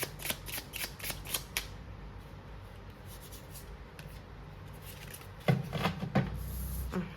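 Oracle cards being shuffled in a quick burst of crisp riffling flicks, then a pause with a few soft card slides and a louder shuffle near the end, close up with no talking.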